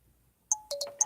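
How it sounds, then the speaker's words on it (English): A phone chimes at a workbench where a kit is being assembled, giving a quick series of four bright, clear electronic tones close to the microphone with no talking. "Why is my phone chiming?"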